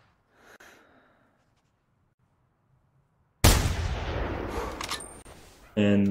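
A .270 rifle fires at an ibex in the hunting video game theHunter Classic: after a faint breath and near silence, one sudden loud gunshot bursts out and rolls on with a reverberant tail, followed by another sharp loud sound near the end.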